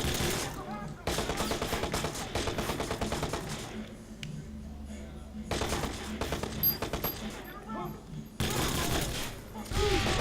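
A fully automatic shotgun in Watch_Dogs fires long, rapid bursts that crack loudly. Short pauses separate the bursts, and a quieter low rumble fills the gaps.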